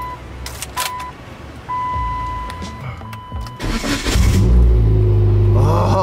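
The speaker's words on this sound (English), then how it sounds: "If you got that clunking noise going on when you go ahead and turn the ignition, it's your starter" A Dodge Caliber SRT4 with a failing starter gives a few dull clunks as the ignition is turned while a chime dings steadily, then the engine cranks and rumbles to life loudly close by.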